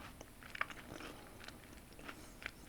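Someone chews crunchy homemade lemon bars close to the mic, with soft, quiet bites and scattered crisp crunches over a low background hiss.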